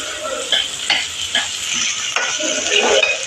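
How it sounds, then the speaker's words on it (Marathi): Rice stir-fried in a pan with whole spices, a steady close sizzle broken by repeated scraping strokes of a spoon across the pan, with no talk. "ते तांदूळ पण चांगले परतून घेणार आहोत."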